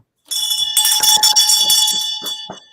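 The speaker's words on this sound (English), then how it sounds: "We ring the bell for victorious test takers." A bell rings loudly and rapidly, with a quick run of bright, ringing strikes that carries on for over two seconds to celebrate a passed financial licensing exam.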